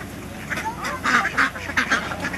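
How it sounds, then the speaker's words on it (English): Ducks at a lake quack in several short, bright bursts, fairly close, as they are fed, over faint outdoor background noise. "here we are at the lake, feeding the ducks"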